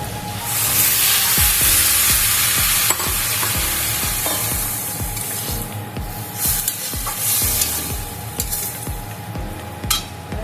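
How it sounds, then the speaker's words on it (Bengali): Water is poured into a pan of small fish curry frying on the stove. A loud hissing sizzle runs throughout, with repeated clanks of a spoon stirring against the pot as it gradually settles. "এখন দিয়ে দেবো জল,"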